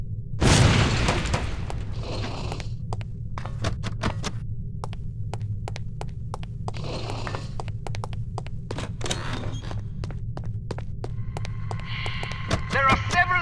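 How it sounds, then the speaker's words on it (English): A lipstick-shaped explosive detonates on impact in the 2000 Windows game The Operative: No One Lives Forever. A single sharp blast sounds near the start, followed by a low hum, scattered clicks and faint game effects. "These relatively inconspicuous-looking lipsticks are actually powerful explosive devices that detonate on impact."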